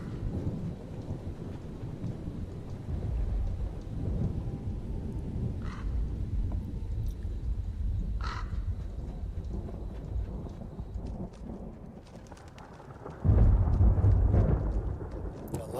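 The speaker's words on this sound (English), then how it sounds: "I love the thunder sounds too." A video game thunderstorm from a Skyrim-style weather mod, with steady rain and low rumbling thunder that ends in a loud, close crack, plus faint scattered chirps in the background.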